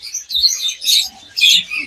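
Sun conures in a bird sanctuary chirping in short, bright bursts, several loud calls in clusters close by with brief gaps between them.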